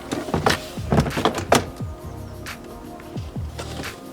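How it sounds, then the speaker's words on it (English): Several sharp plastic pops and thunks as a Ford Fiesta ST150 door card is unclipped, clustered in the first two seconds, then a few quieter clicks; close up, no speech. "Now the door card should just simply unclip in a few places."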